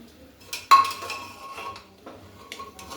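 A metal lid is set down over a pot of chicken stew, giving a sharp clink followed by a ringing tone that fades, with a few softer knocks of metal afterward.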